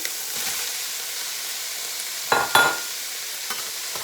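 Fish fries in a hot pan of oil, giving a steady, loud hiss that swells briefly twice as the pieces are moved and stirred.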